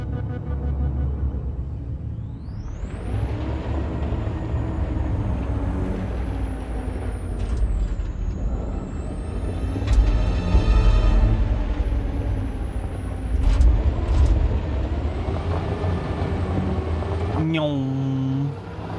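Truck in Detroit: Become Human rumbling as it drives, a loud sustained low engine drone with swelling revs and hissing, shifting whines over roughly nineteen seconds, with a brief air-brake-like burst near the end.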